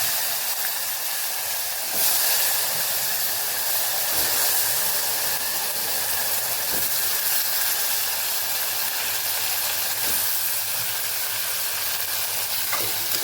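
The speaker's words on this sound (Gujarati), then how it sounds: "અને બટેકાનો વઘાર કરી દઈશું" Potatoes hit hot oil tempered with dried red chillies, asafoetida and turmeric for a Kathiyawadi potato curry, giving a steady, loud sizzling hiss that runs continuously with a few faint clinks of stirring.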